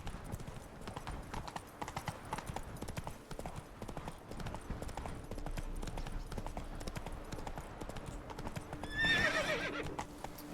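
Roach, the horse in The Witcher 3, gallops with a continuous run of hoofbeats at moderate loudness, and a whinny rises near the end; faint talk sits beneath.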